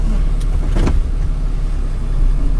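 A pickup truck with a trailer hitched, its brake controller turned all the way up, rolls forward from a stop and brakes; a steady close engine rumble fills the cab with a short squeal and thud midway.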